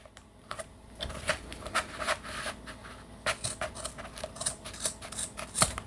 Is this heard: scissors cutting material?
yes